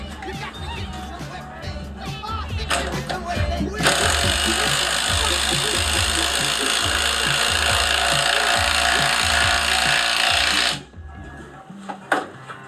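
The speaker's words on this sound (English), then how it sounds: "Just a little demonstration of how powerful this little goofy DeWalt 12 volt." A small DeWalt 12-volt power tool cuts in a loud, steady, harsh burst that runs for about seven seconds, then stops abruptly. Lighter clatter and handling noises come before and after the cut.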